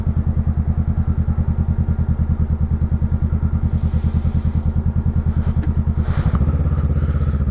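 A Honda Rebel 500 motorcycle in stop-and-go traffic runs with a loud, steady, pulsing thump at low speed, then the engine note shifts briefly as it rolls and eases off, with no talking.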